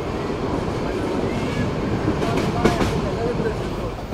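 Sonar Bangla Express train rolling on rails out of Brahmanbaria railway station, a steady, loud rumble of wheels and carriage noise that holds evenly throughout with a slight swell near the end.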